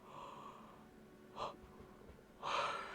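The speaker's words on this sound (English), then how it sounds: "Dude, I cannot stop yawning right now." Person yawns with breathy, drawn-out inhalations, two audible gasping breaths close to the mic, the second longer and louder, over quiet background.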